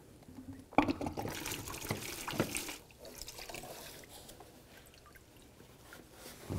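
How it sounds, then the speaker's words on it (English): Windshield washer fluid from a 1999-2006 Chevrolet Silverado 1500 reservoir drains into a bucket, with splashy liquid bursts early on that settle into a quieter, steady trickle. "I'm gonna drain the washer fluid out."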